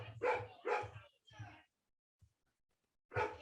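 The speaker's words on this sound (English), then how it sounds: "dog barking in the background" A dog barks in short bursts, several loud yaps in quick succession, then a pause and another single bark, heard behind a home online conversation.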